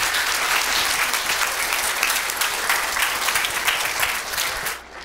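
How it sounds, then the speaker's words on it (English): An audience claps for a round of applause at a Shark Tank–style entrepreneur night, sustained, dense and loud throughout before tapering off at the very end. "let's give a round of applause to Shake That Cake"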